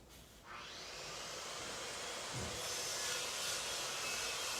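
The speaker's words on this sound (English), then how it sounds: "Just enjoying the sound of saws." Steady rasping saw strokes cut through wood, a continuous rough scraping that swells slightly louder and stays constant throughout, with no talking.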